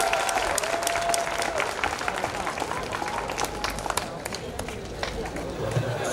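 Loud crowd applause and cheering at a Lethwei fight night match, continuous dense clapping filling the venue with scattered shouts.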